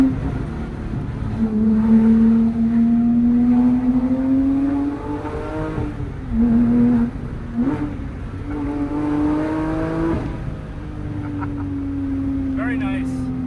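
Porsche 997 GT3 engine revving through a downshift, a loud sustained flat-six drone with rising and falling pitch, a quick blip near the middle and steady revs continuing to the end.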